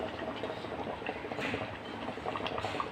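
Water boiling in a pot on a home kitchen stove while biryani is prepared: steady close bubbling and popping, a continuous moderate seething texture without voices.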